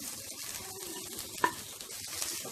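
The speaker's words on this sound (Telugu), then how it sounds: "ఇది అంతా బాగా కలుపుకుందాం" Cooked foxtail millet rice being mixed with amla paste in a pan, a quiet, soft stirring and faint sizzle with one sharp clink of the spoon partway through.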